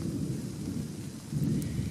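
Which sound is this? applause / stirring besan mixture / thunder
thunder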